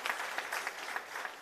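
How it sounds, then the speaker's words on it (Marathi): Brief, faint applause from an audience welcoming Fadnavis at a BJP OBC Morcha Maharashtra executive meeting, with soft, evenly spaced claps heard from a distance. "आपण सर्वांनी आदरणीय फडणवीस साहेबांचं टाळ्या वाजवून त्यांचं या कार्यकारिणीमध्ये स्वागत करावं"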